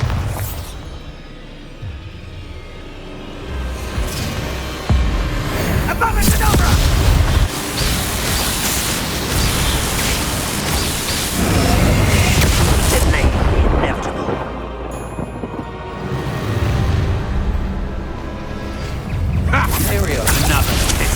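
Spell explosions in Hogwarts Legacy: deep booms and rumbling blasts roll through a dense, loud game battle, with voices shouting over the din.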